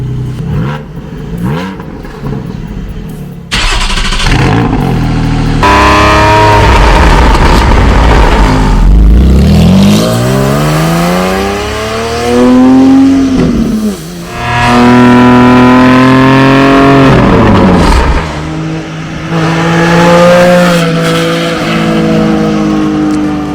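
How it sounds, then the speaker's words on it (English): A Porsche 718 Spyder fitted with titanium linking pipes cold-starts with a loud bark and flares to a high rising rev, then settles into a rough, fluctuating fast idle with repeated blips, close and loud. "Cool start with the new linking pipes."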